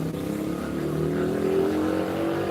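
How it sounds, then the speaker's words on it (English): Steady street traffic of cars and motorbikes on a road in the Dominican Republic, a continuous engine rumble that swells slightly as vehicles pass nearby. "So you guys can hear the traffic even behind me"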